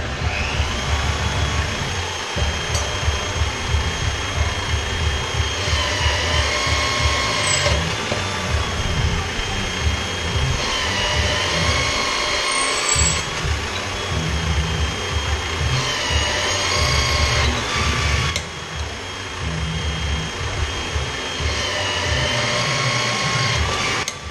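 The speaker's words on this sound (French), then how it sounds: "Et maintenant on va percer." A drill bores a hole through a knife blade lubricated with cutting oil, a loud steady grinding whine with shifting tone as pressure changes, plus brief pauses and small squeals between runs.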